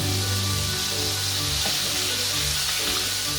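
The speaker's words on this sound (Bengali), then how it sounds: "কড়া করে ভেজে নিতে হবে যাতে ক্রিস্পি হয়।" Chicken pieces coated in cornflour and flour batter deep-fry until crisp in hot oil, a loud continuous close sizzle and bubbling with faint stirring movements and no speech.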